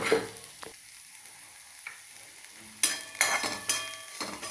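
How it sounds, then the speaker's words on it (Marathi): Spices and turmeric are stirred into a mixture frying in a pan on low heat, giving a soft steady sizzle broken by several scraping stir strokes and clinks of the spoon against the pan, with no talking. "आता हे पण ह्याच्यामध्ये व्यवस्थित मिक्स करून घ्यायचं"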